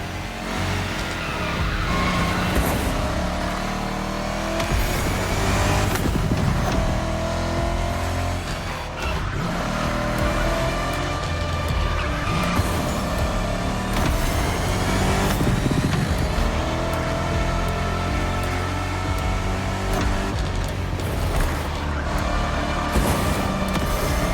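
A Camaro muscle car in the racing game The Crew Motor Fest, engine revving and roaring loudly throughout with rising and falling acceleration and gear changes, no talk.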